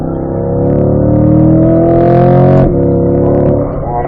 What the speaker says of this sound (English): And we're going to braking nice and firm here before the brake comes. Down to 4th, and down to 3rd.